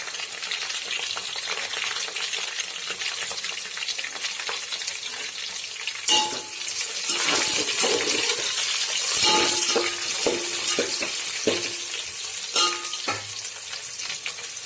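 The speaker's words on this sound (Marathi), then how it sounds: "कांदा आणि सुका मसाला भाजत आल्यानंतर याच्यामध्ये मी घालत आहे थोडीशी पुदिन्याची पाने" Onion and dry masala frying in a pan with mint leaves, for mutton dum biryani: a steady loud sizzle with scattered stirring scrapes and clinks.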